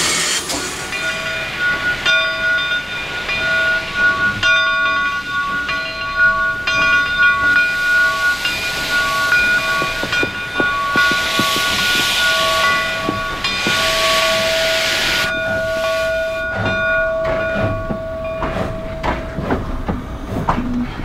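Southern Railway 280 number 401, a steam locomotive at Illinois' Monticello Railway Museum, sounds a long chorded steam whistle over hissing steam and the clank of moving railcars, with the whistle repeated in several sustained blasts.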